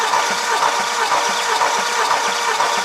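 A Range Rover Vogue 4.4 engine, fitted with a new oil pump after internal damage, cranks close by with a steady, rhythmic churning pulse over a loud mechanical whir.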